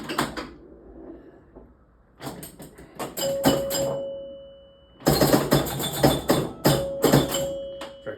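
Gottlieb Flip a Card electromechanical pinball machine in play, with bursts of mechanical clacks, bumper hits and bright chime dings, a sustained tone ringing under clustered knocks in two active stretches separated by a quieter pause.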